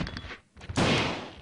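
Gunfire in the video game Resident Evil 2 comes as a short burst at the start, then after a brief lull a louder, sustained blast of shots, with no speech.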